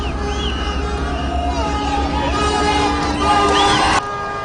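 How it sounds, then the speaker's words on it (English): A large crowd gathered to receive the president on a visit to the Greater Kigezi sub-region cheers and whistles continuously, a dense loud babble of voices with shrill whoops rising over it. "Hundreds of people gathered in key centers to wave, cheer and warmly receive the president"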